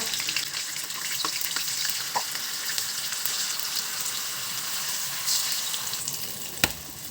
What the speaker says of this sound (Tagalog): Maglagay na tayo ng cooking oil. Prituhin na natin ating tokwa.